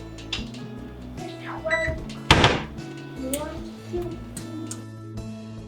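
An oven door opens with a single clunk as baking trays of Jack Jack Num Num cookies slide into a home oven, set among voices talking and low kitchen background noise.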